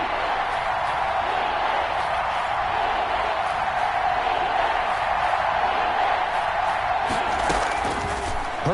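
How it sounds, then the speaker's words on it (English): Football stadium crowd in a PS4 video game, a dense, steady roar of cheering that holds level throughout, rising slightly near the end with a few sharper shouts. "the crowd getting into it as we come up on a big third down"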